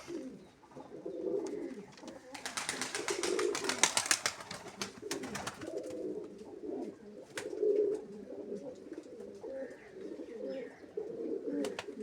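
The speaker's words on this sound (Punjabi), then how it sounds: "ਦੱਸਿਓ ਕਿੱਦਾਂ ਦੇ ਲੱਗਦੇ ਆ ਕਬੂਤਰ ਤੁਹਾਨੂੰ" Pigeons coo steadily in low, rounded murmurs, several birds overlapping at close range, with brief bursts of rustling noise and wing flutter partway through.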